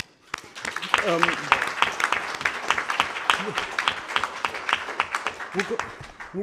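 Short round of applause from a conference audience, scattered claps rising to a steady patter across the seconds, with a voice speaking over it.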